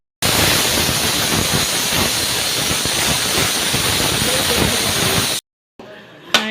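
A pressure cooker hisses steam loudly and continuously for about five seconds while mutton cooks for a Rayalaseema-style mutton pulusu, then cuts off abruptly, followed by a brief faint rustle.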